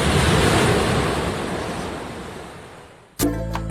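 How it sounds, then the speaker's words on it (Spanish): Ocean waves break loudly on a Costa Rica surf beach, a broad roaring wash that swells and then fades away before an abrupt shift to a different steady sound. "Aquí acuden surferos del mundo entero para desafiar las leyes del equilibrio y enfrentarse a la fuerza de las olas."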